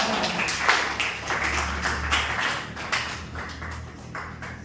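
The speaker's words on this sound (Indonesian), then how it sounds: "Tepuk tangan untuk kelompok 4" A classroom group applauding after a presentation, a burst of clapping and tapping that is loudest near the start, then thins into scattered claps and fades over a few seconds.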